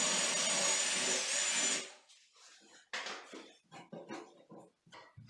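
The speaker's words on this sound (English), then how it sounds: "we drill a hole and let's see if the anchor is going inside" A power drill with a 1/4 inch bit bores a hole into a bathroom vanity, a loud whirring burst for about two seconds, then scattered clicks and handling noises.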